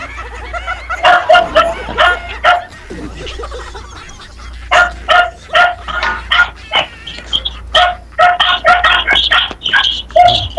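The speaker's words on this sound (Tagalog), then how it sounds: "Yung mga aso na nag-uusap, hindi tao." Several dogs bark in repeated bursts, loud and close, with short pauses between volleys. A rooster crows and chickens cluck in the mix.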